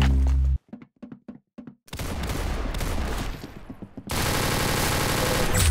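Gunshots in the Roblox game Arsenal, a short run of quick separate shots followed by sustained rapid automatic fire, loud and close.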